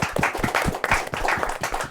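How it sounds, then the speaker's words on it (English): Audience applauding at the close of a talk show episode, a burst of dense, close handclaps with uneven rhythm and no talking. "So give a round of applause for yourselves."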